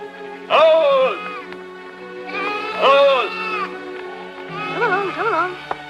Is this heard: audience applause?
no